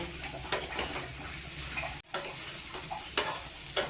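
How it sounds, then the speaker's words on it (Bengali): Ground whole spices being sautéed in a pan for a vegetarian navratan korma, with soft sizzling and a few sharp spatula scrapes and clinks, close by, with a brief gap midway. "এগুলো দিয়ে খুব ভালো করে কষিয়ে নেব"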